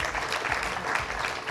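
An audience at an innovation awards ceremony applauds as a partner is invited up to present the prize, steady dense clapping throughout.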